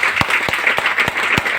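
Audience applause at a DXN meeting, a dense steady wash of many hands clapping, with a few sharper, louder claps standing out in an uneven rhythm, fairly close and sustained throughout.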